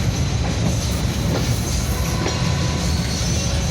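Pakistan's fastest express train rolls across the historic Sindh Bridge, a steady, loud rumble of railcars with faint rhythmic clickety-clack of wheels continuing without pause throughout.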